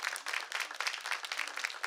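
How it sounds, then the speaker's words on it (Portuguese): A small group at a viola workshop gathering claps for a smiling older woman, quick light applause heard at moderate distance for about two seconds. "Palmas para a Anália."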